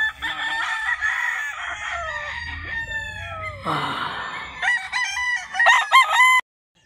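Several gamefowl roosters crow loudly one after another at a game farm, with chickens clucking and calling in between, close by and busy throughout.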